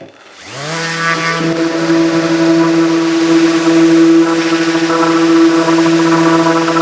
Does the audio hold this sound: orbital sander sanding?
yes